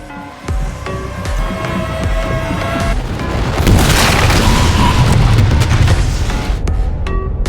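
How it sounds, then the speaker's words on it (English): A heavy boom erupts after a short lull, followed by several seconds of loud, rumbling roar and debris-like noise that slowly fades. "After the explosion"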